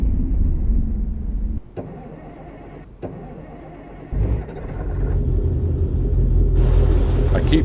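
A truck engine in American Truck Simulator rumbles at low idle, drops out, then catches and revs back up in uneven bursts while the clutch engages, ending in a sustained, louder drone with a faint higher whine.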